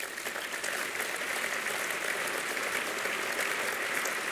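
Audience applause fills a hall after a thank-you speech, a steady dense clapping sustained at even loudness throughout, with no voices over it.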